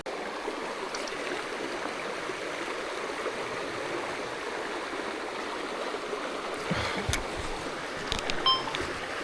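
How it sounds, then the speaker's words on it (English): A stream in Victoria flows in a soft, steady wash of running water on a fly-fishing outing, faint and continuous, with a few light knocks near the end and no talk. "Oh, nice water up ahead."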